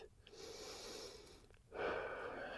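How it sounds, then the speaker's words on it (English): Quiet, close breathing before a rifle shot with a suppressed Henry Model X .30-30: a long soft inhale, a short pause, then a stronger breathy exhale, faint and alone. "breathe"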